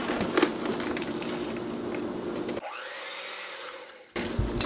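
An electric hand mixer with no slow speed whirs steadily while beating keto cheesecake filling with powdered monk fruit erythritol sweetener, close and even, then cuts out for over a second before starting up again.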